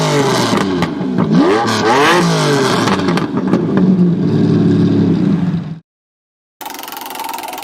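A Lamborghini Diablo with its 6-litre V12 engine revs hard, loud and close, its pitch sweeping up and down through repeated blips before a sudden cut to silence, then a steadier engine drone resumes.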